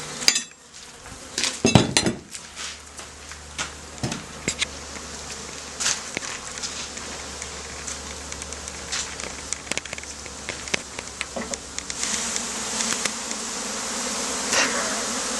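Honey bees buzz in a steady, dense drone as their hive is moved, with occasional knocks and clatters of wood and tools over the continuous humming, recorded close up outdoors.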